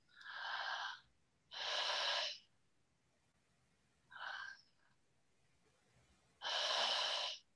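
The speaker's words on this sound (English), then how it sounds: "doing a connected breath like that" Open-mouth connected breathwork: four strong, hissing breaths in an uneven rhythm, close and loud, with short quiet gaps between them and no talking.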